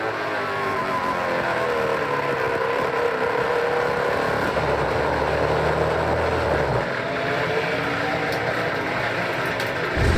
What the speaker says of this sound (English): You can hear parts and pieces banging around inside that engine block